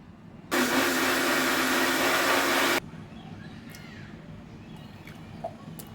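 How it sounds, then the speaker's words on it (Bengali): A blender whirs loudly for about two seconds, mixing dragon fruit with three teaspoons of sugar into juice, then cuts off abruptly, leaving quiet room noise. "এখন আমি এগুলো সবগুলোকে ব্লেন্ড করে নিয়ে আসছি"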